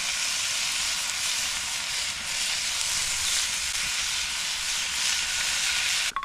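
Bacon frying in a pan on a campsite grill, a steady close hiss and sizzle with a crackling texture, continuous and fairly quiet, no talking.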